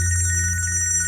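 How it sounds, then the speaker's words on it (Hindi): A mobile phone rings continuously with a steady electronic ringtone, close and clear, with no talk over it. "भाई साहब आपका फोन बज रहा है।"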